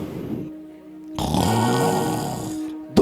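During a Quechua sermon, a preacher's voice imitates snoring with drawn-out, raspy, guttural breaths that grow louder and rougher partway through.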